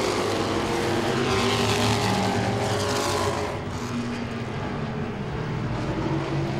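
Modified race cars roar around the oval at Langley Speedway, a loud, continuous pack of engines that swells and then eases slightly as the field passes.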